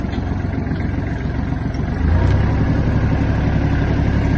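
Kubota GL-32 mini tractor diesel engine idling with a steady low rumble, then the note deepens and strengthens as the tractor is put in reverse and pulls away, close by with no talk.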